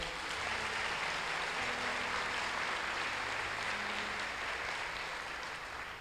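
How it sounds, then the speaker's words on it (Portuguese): Congregation at a Portuguese-language church service applauds, a steady, full-bodied wash of many hands clapping for several seconds that tapers slightly at the end. "Você pode aplaudir ao Senhor?"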